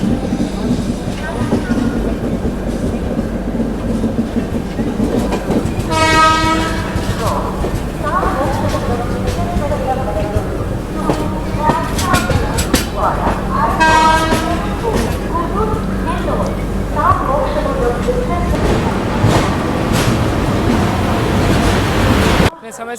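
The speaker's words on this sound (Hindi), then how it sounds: "उधर से कोई तो ट्रेन आ रही है।" An Indian train approaches on the main line near Katpadi Junction, with a steady rumble and rail clatter broken by two bursts of loud horn toots.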